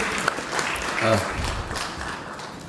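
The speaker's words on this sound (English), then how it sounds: "Please, a round of applause to him." Audience applause at an African Liberation Day gathering: a steady, dense wash of clapping that fills the whole stretch, with voices talking over it.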